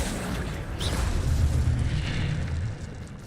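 Incendio fire spell cast in Hogwarts Legacy: a sustained, loud low roaring burst of flame lasting a few seconds, with a brief brighter crackle near the start, fading slightly at the end.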